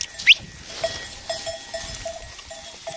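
Bells hung on a grazing flock of sheep in a green highland pasture with pine trees clink and ring in scattered, uneven tones, close by and fairly soft, with brief rustling between them.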